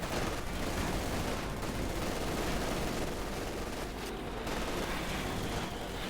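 Submachine gun fire rattles through a battle in Company of Heroes 2, dense and continuous bursts filling all six seconds at steady loudness with no talk.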